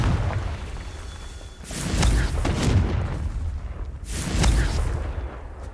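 The Confringo blasting spell in Hogwarts Legacy, two heavy booming explosions a couple of seconds apart, each with a sharp burst and a rumbling low tail, loud and alone without talk.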